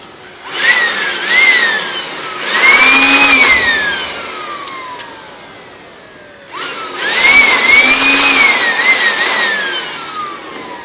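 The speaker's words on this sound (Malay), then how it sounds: "seterusnya kita cuci arka menggunakan vacuum" Vacuum cleaner cleaning the arc chutes of an air circuit breaker in a 400V low-voltage cabinet, running in two long, loud bursts whose whine rises and falls, with a short lull between them.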